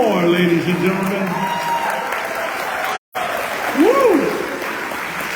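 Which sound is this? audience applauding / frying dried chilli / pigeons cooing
audience applauding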